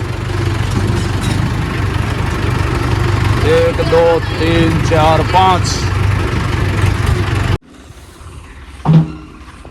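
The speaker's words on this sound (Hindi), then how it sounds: "आवाज तो लाइन लग रही है ट्रैक्टरों की।" A steady, low engine rumble from a line of idling tractors at a brick kiln runs throughout, with a voice counting aloud over it before the noise cuts off.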